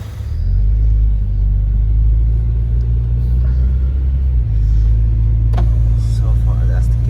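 Steady low engine rumble from a 1999 Honda CR-V with a B20 engine, being driven after an overheating and oil-leak repair, heard from inside the cabin as a constant drone with a slight pitch change partway through.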